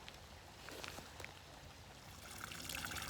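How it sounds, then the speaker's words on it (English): Fast-flowing stream water at a trail water source runs in a steady, faint rush with light trickling detail throughout. "Now this is a great water source. Still needs to be filtered. Look at how fast that's flowing."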